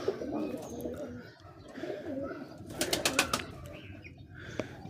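Wild pigeons making soft, low cooing calls nearby, with a few brief wingbeat flutters and some faint background noise.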